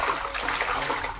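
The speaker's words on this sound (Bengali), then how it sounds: "এখন আমি সবগুলো ভালো করে পরিষ্কার করে ধুয়ে নেব" Water splashing over freshly cut river fish being washed, a brief, close burst of sloshing and rinsing with no voice.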